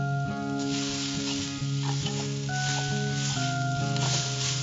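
Grated beetroot sautés in a pan, giving a constant close sizzle and stirring noise that runs under louder tonal background music.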